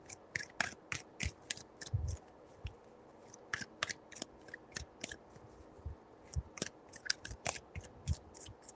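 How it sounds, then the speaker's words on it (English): A deck of tarot cards shuffled by hand in three rounds, a rapid run of crisp flicking riffles and soft slaps that comes in bursts, close and fairly quiet with no talking. "Three shuffles."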